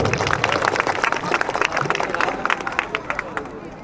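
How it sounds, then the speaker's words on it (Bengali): Applause from an audience for children at a university prayer competition: dense, sustained clapping with crowd murmur, fairly loud and steady throughout. "এই বাচ্চাদের জন্য একটা বড় হাততালি হইতে পারে তো"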